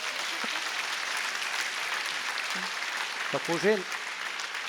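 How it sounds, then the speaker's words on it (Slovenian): An audience applauds at the opening of the Ilirija sports centre, a steady crowd clapping heard at moderate distance, with a few words spoken over it near the end. "Samo še vaš aplavz manjka"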